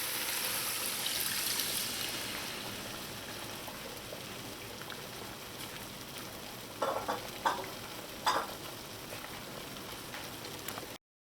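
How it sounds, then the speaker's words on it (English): Reserved seasoning liquid, about 2 cups, poured into a pot of Trinidad and Tobago curry crab, giving a steady wash of sizzling, bubbling and splashing noise throughout, with a few louder splashes and clinks near the end. "So now we're going to add our reserved liquid that we had our seasonings in."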